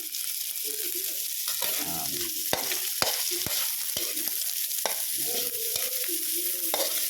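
Labahita fish pieces frying in laing with loud continuous sizzling, broken by sharp clanks and scrapes of a utensil stirring in the pan, close up, without talk.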